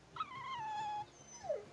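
A dog whimpers in the Tales of Berseria video game, one long high drawn-out whine falling slightly in pitch, then a brief rising yelp near the end, moderately close and alone.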